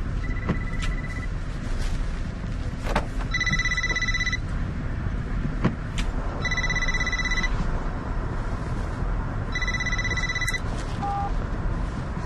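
A telephone rings in three bursts of electronic trilling tones, fairly close, with a faint low hum and occasional knocks between rings in a quiet room during a French drama.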